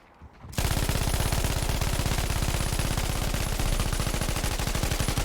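An MG42 machine gun in Battlefield V opens up after a brief quiet moment, a loud, very rapid, unbroken stream of shots that runs to the end with no pause or talk.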